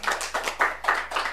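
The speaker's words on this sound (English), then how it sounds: "if we can have a round of applause for the organizers being the last one" A small audience claps for event organizers at a lecture on historical perspectives of Jewish presence, a handful of hands beating out steady, evenly spaced bursts of claps, fairly close and with no talk over it.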